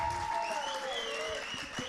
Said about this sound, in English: A round of applause for the England team.